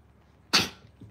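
A single sharp sneeze bursts out, close and loud, followed by a faint short exhale.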